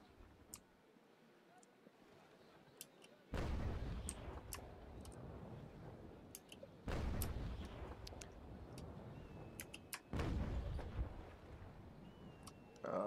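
Cannon broadside fire from sailing warships in the naval combat game Naval Action, heard as three loud, booming volleys spaced a few seconds apart, each a broad rumbling blast with crackling tails, over quieter sea and ship ambience.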